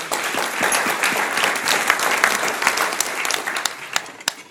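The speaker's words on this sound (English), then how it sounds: "Let's give them a round of applause." An audience at an Israel Bonds award ceremony applauds the honorees with lively, sustained clapping from many hands, loud and close, tapering slightly toward the end.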